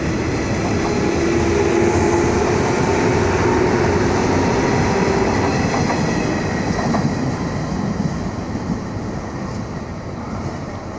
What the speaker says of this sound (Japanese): 電車が通ります。